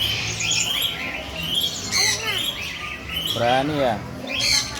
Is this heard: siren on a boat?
no